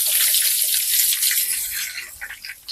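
Water pours and drains off field snails soaked in salt water, a steady bright rush of running water that thins into separate drips and trickles near the end.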